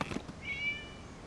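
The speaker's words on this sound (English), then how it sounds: "It was just a cat." Cat meowing in the Genshin Impact video game, a single short, faint, high mew after a soft bump, heard alone against quiet background.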